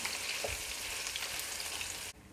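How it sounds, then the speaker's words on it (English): Chopped or grated garlic fries in a pan with a dense, steady close sizzle that cuts off abruptly near the end, no talking. "And your garlic, either chopped or grated. Fry that off for a minute."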